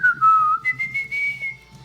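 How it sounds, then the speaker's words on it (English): A ventriloquist dummy's mechanical whistling effect: a clear, melodic whistle gliding through a few sustained notes, with soft mechanical clicking beneath it. "You've got the whistling effect,"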